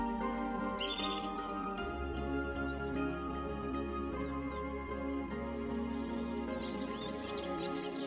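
Spotless starlings call in an ancient oak forest, with scattered chirps and whistles over a steady tonal background, moderately distant and without voices.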